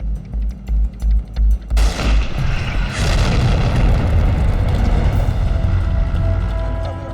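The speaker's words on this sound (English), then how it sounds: "We opened fire." Heavy tank guns firing in a desert battle between German and English tank squads at El Alamein: a string of deep booming shots, then a loud sustained roar of blasts and rumbling gunfire, close and dense.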